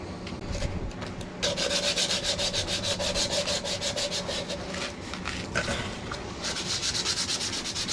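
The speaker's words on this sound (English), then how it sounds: "there's going to be another 30 minutes to an hour of sanding it with finer 400 grit" Rhythmic back-and-forth rasping of 400-grit sandpaper on hardened fiberglass filler, steady strokes continuing close up with no talking.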